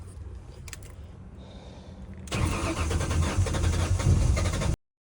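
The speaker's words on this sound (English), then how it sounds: "we're pretty much plugging the battery and starting this car" A Ford Mustang engine cranks briefly and then catches, settling into a loud, rough idle up close before cutting off abruptly.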